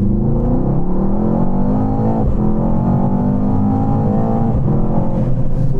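An Audi RS7 Performance accelerating hard down a runway, its engine note rising steadily and loud with two brief dips at gear changes, heard alone without talk.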